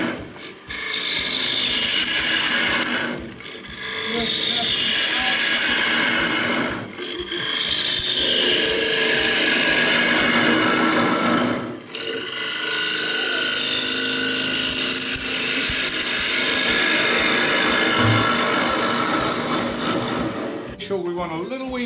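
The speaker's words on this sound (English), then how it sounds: "I'm facing across the lathe and just blow the middle out" A wood lathe spins a bowl while a gouge cuts across its face, giving a loud, continuous scraping, rasping drone with a few short breaks. Someone talks over it.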